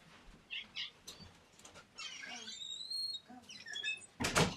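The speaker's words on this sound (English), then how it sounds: "I have a really annoying cat who's meowing and isn't going to stop" A few faint meows from a cat, some drawn out, with quiet room noise and soft sounds between them.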